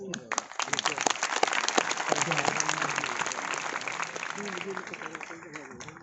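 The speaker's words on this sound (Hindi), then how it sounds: "जोरदार तालियां इनके लिए" Loud, sustained applause from a crowd at a thalassemia awareness carnival in Sargodha, dense clapping that carries steadily for several seconds and slowly tapers toward the end.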